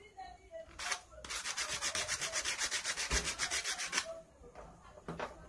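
Copper being scrubbed clean before soldering: a close, loud burst of rapid rhythmic rubbing strokes, about twenty quick back-and-forth scrapes over three seconds, framed by a few isolated rubs before and after.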